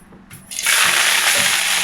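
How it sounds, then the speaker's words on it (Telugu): Finely chopped coriander leaves washed in water, with a brief quiet start before a steady splashing, rushing wash of water that continues to the end, with no talking. "కొత్తిమీరని ఇలా సన్నగా కట్ చేసుకొని ఒక రెండు సార్లు శుభ్రంగా కడిగి"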